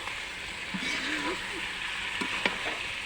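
Chicken sizzles in oil with ginger paste in a village home kitchen, a steady close crackle with scraping stir strokes. A faint voice murmurs underneath.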